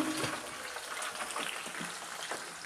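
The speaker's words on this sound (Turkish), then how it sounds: "Tenceremi yıkayım." Tap water running steadily in a kitchen while a cooking pot is washed, a continuous close hiss and splash with faint clinks, no voices.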